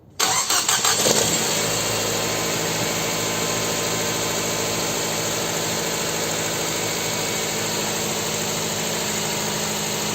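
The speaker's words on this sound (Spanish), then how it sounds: "Lo siguiente que van a hacer es arrancar su auto." A Nissan Tiida's engine cranks briefly and catches, then settles into a steady, even idle that runs on for about nine seconds, close and loud with no talking.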